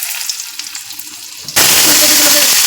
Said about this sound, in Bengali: পরিমাণ কাজুকে ধুয়ে তারপর এটাকে তেলে ছাড়া হচ্ছে